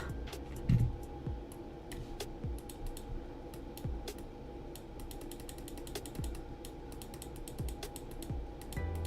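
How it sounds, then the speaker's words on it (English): A computer mouse clicks steadily during a digital art session, with many crisp, close clicks scattered irregularly throughout, mixed with soft low thumps and faint room hum. "You can hear my mouse clicking."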